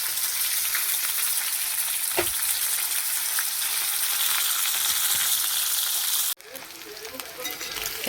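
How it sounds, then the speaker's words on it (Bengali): Murli (stingray) fish fries in oil with a dense, steady sizzle, a faint clink or stir partway through, then an abrupt drop to a quieter, crackling fry near the end. "বন্ধুরা, ভাজা হয়ে গেছে আমার মুরলি মাছ"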